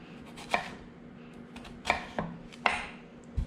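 A knife chops on a cutting board in a few sharp, spaced strikes, close and fairly quiet, with no talking.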